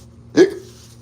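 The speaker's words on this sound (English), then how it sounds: "I got the hiccups." A single sharp hiccup bursts out abruptly from a man, loud and close, then stops within a fraction of a second against quiet room tone.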